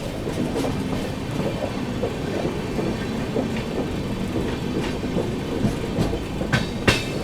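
The Chennai Express passenger train climbs the Khandala ghat with banker locomotives pushing from behind, giving a steady rumble and rhythmic clickety-clack of wheels on rail joints, heard from inside the coach without talk.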